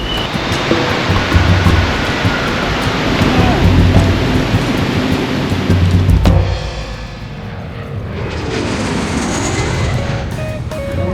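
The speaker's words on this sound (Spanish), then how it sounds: "Y nos encontramos con que no para de llover." Heavy rain pours onto a street outside a train station, a dense, loud, continuous hiss that thins out partway through, leaving steady rushing noise behind.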